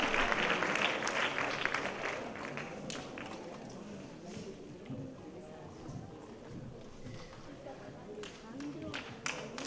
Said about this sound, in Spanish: Pues ese aplauso